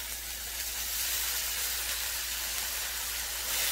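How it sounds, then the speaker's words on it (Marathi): Washed masoor lentils tipped into a hot pan of oil and turmeric set off a continuous close sizzling hiss, steady for several seconds, with no talking. "यामध्ये आता ही धुवून घेतलेली मसूर डाळ टाकायची।"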